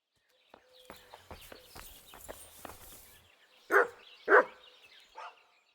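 In Kingdom Come Deliverance 2, a dog gives three loud, close barks after a run of footsteps, with the last bark softer.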